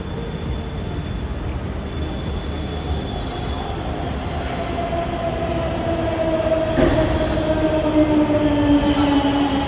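Inside a metro train in motion, a steady rumble and rail hum is heard with a rising whine as it accelerates, continuous and moderately loud without speech.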